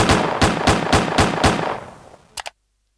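Gunshots are fired at an iPhone: six loud, evenly spaced blasts about a quarter second apart, each ringing briefly. The ring fades out, then two sharp quick shots follow close together, and silence after.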